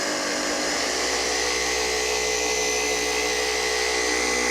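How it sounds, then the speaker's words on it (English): A car paint polisher spins at a medium-high setting during a paint correction, giving a steady, loud, unbroken whir and whine that fills the whole stretch with no voices. "now move up to speed 4 or 5 or whatever's necessary on your polisher."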